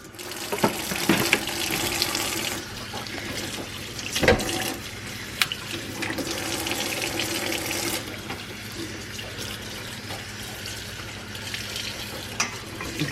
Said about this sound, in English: Let's rinse them out.